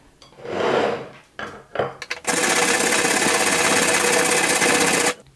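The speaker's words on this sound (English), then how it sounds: "Now grate potatoes and apple into two separate bowls." Potatoes and apple being grated, a couple of short rasping strokes followed by a long, loud, steady grinding run of about three seconds that stops abruptly.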